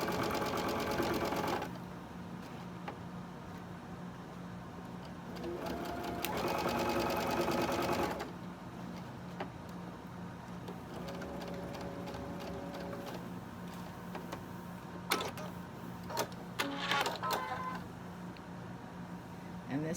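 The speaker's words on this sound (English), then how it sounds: "I'm going to go ahead and finish sewing all of these together" A sewing machine stitches pinned quilt blocks in bursts of rapid, close mechanical whirring, stopping and starting between seams over a steady low hum, with occasional handling clicks.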